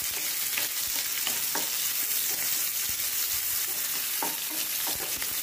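Sliced onion sizzles steadily in a hot pan while cooking for Maharashtrian zunka, a continuous bright frying crackle with occasional soft stirring taps.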